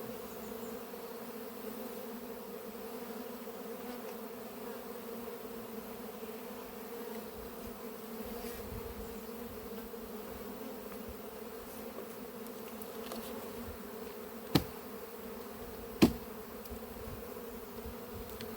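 Honeybees buzz steadily around an apiary hive during a visit to shake out a drone-laying colony, a continuous close insect drone filling the whole stretch, with two sharp brief knocks near the end.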